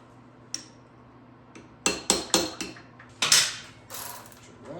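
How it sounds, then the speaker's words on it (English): Punch and hammer knocking locking tabs off the rear sprocket bolts of a 1975 Honda XL125, a few sharp metallic strikes, one early then a cluster of four hard knocks and more rattling taps, close and alone. "We will grab a punch and a hammer to remove our little locking tabs."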